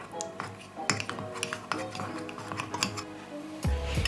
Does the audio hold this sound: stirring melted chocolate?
yes